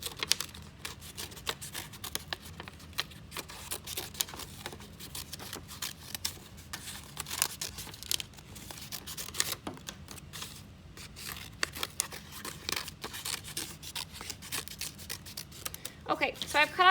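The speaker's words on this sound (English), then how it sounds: "Okay, so I've cut out shapes from one side." Scissors snip shapes from a folded sheet of paper in short, uneven bursts of crisp cuts, with a steady low background hum throughout.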